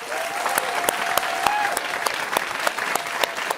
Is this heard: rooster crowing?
no